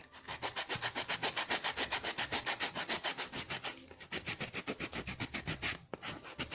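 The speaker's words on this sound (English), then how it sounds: "for the sake of this tutorial, we are using a sandpaper" Sandpaper roughening leather during shoemaking, a steady run of rapid back-and-forth rubbing strokes, close and fairly loud, with a brief pause midway before the scraping resumes.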